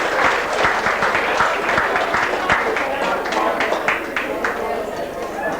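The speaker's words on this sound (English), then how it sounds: "A big round of applause there for good contestant." An audience applauds a Glamorous Granny contestant in a lounge bar in Ardara, the claps dense and steady for several seconds with scattered sharp hand strikes and a faint voice underneath.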